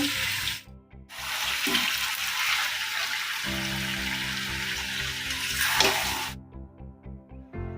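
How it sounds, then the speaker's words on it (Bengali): Chicken frying in a pan in a home kitchen: a steady, loud hiss of sizzling fills most of the stretch, then cuts off abruptly, with faint clatter around it. "এখন মা করছে চিকেন এই দেখো চিকেন"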